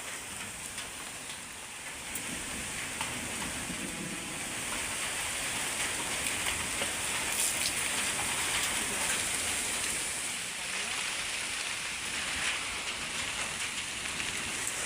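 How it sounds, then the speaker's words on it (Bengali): Heavy rain from a Kalbaishakhi storm falls in a broad, steady roar of drops hitting surfaces, building slightly after the first couple of seconds and holding loud and continuous without voices. "এবারে কিন্তু বৃষ্টি পড়া শুরু হয়ে গেছে ফোঁটা মোটা।"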